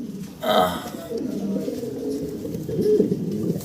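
A fancy pigeon, a hen sitting on eggs in a nest pot, gives a soft, low cooing close by while someone talks over it.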